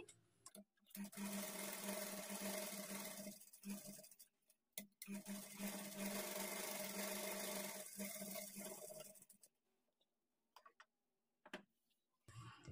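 A sewing machine double-stitches a high neck blouse in steady, rapid runs, pausing with short quiet gaps between bursts, close and fairly quiet, with no talking.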